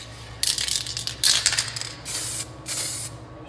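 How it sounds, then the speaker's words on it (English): Aerosol lacquer sprayed onto a scratched black laminate worktop in several close, loud hissing bursts, each lasting under a second, with brief pauses between. "sprinkle your lacquer over there, just let it form on the surface and just let it dry."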